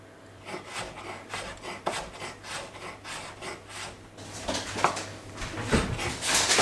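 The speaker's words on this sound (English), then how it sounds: "So I'm just thinly slicing off this zest" A knife thinly slicing zest from around half of a lemon, heard as a close run of short, rhythmic scraping rasps that grow louder and denser toward the end.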